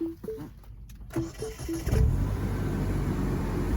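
A 2008 Mini Cooper S with a manual gearbox starts up: a handful of short chirping beeps, a brief crank, then the engine catches and settles into a steady close idle.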